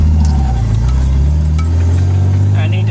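A car engine runs at close range with a slipping drive belt, giving a steady heavy hum with brief thin whines and chirps riding on top.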